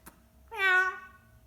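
A person imitates a cat's meow with a single drawn-out, rising-and-falling mew lasting about half a second, close and clear, after a brief click and near-silence.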